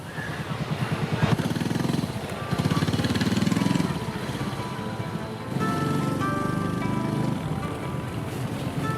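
Small motorcycle ridden along a road in Vietnam, its engine droning steadily and close for the whole stretch, rising and easing with throttle changes, against busy traffic noise.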